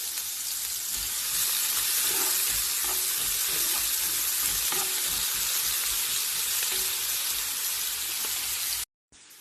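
Chopped onion sautéing in hot oil in a frying pan for a chicken and black rice pilaf gives a steady, loud, broadband sizzle throughout, with faint clinks of stirring and no talk, before cutting off abruptly near the end.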